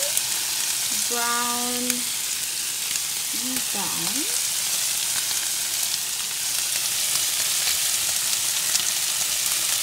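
Fish fillets frying in a pan with a steady, loud broadband sizzle throughout, while a voice speaks briefly near the start.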